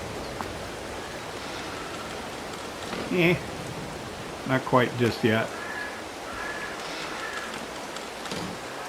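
Steady rain falls in Farming Simulator 22, a constant soft hiss running throughout, while someone briefly speaks over it.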